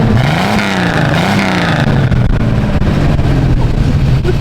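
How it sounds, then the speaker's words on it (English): Jeep fitted with an S400 turbo on a diesel engine, running loud and close with a steady low rumble, a rising and falling turbo whine at the start, and a harsh, continuous roar throughout, no voices. "Do you have like a turbo on your Jeep? Yeah, Bailey. It's got S400. Listen to this thing, man. It sits in idles."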